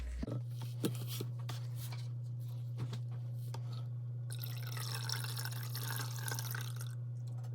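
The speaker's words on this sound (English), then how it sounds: "So I'm going to add in my lye." Lye solution is poured into a batch of soap in progress, making a steady close trickle of liquid with small drips and splashes throughout, with no talking.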